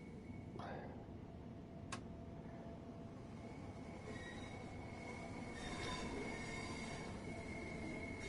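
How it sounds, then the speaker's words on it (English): Trains move about in the video game Train Sim World 6. A quiet, continuous rumble of rail traffic carries a sharp wheel squeal near the start, then a thin, sustained metallic screech. "Because the amount of bloody trains that are moving about."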